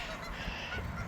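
Geese honking continuously, a loud overlapping chorus of harsh calls from a flock nearby.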